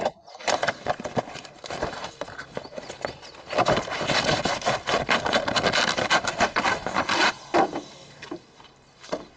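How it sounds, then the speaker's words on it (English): A new air filter is pushed and fitted into the housing of a Mercedes Vito W639 115 CDI, giving close, dense rustling and rubbing of plastic and filter material with scattered knocks and no talking. "Now we put the new air filter in."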